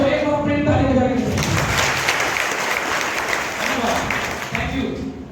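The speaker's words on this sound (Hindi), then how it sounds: "तो एक बार अपनी ताली बजा के" An audience at a motivational business meeting claps together on cue, a loud burst of dense applause that begins under a speaking voice, holds for several seconds, then thins as talk resumes.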